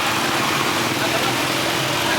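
A motorbike engine runs at a steady idle in a busy city street in Dumaguete, Philippines, a continuous low rumble under traffic noise and people talking nearby.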